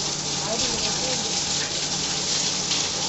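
Water gushes steadily into a household water filter being refilled, a continuous rushing splash that stays even and fairly loud throughout, with no talk.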